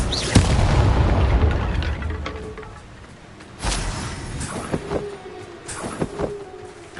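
Explosive Bombarda and Confringo spell blasts go off in Hogwarts Legacy, several heavy booming impacts with rumbling tails, a big hit at the start, another mid-clip, then a string of sharper bursts.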